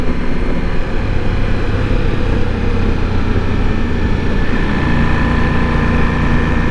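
Ducati Multistrada V4 Rally motorcycle engine droning steadily while riding at about 45, with a downshift blending into the continuous loud, close engine and road roar.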